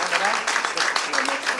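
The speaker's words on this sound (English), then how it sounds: "A round of applause for Yuka," An audience at an award ceremony breaks into applause, a close, loud patter of many hands clapping with small rhythmic surges, filling the whole moment.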